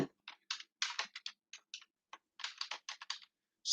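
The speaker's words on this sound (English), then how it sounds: "Just typing, I didn't get anything in there." Someone types on a computer keyboard in clustered bursts of crisp close key clicks, separated by short silent pauses.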